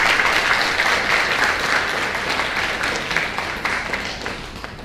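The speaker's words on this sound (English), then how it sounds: "Give big applause for him." Steady audience applause at an international research integrity workshop, with continuous clapping from a seated crowd for a speaker that tapers slightly toward the end.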